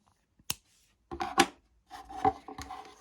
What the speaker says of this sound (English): Now I'm gonna cut my yarn